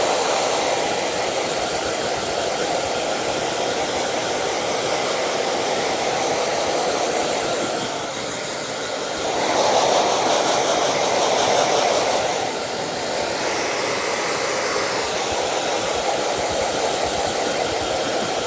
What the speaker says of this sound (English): let's go ahead and kind of start blow drying them out